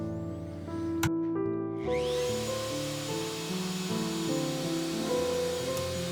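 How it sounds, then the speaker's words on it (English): A plunge router cutting 1-inch-deep mortises in cedar for a bathroom bench, a loud steady high motor whine with the cutter biting into the wood, heard close and continuous, with no talking. "After setting my plunge depth to about 1 inch, it was then time to carve out the mortises."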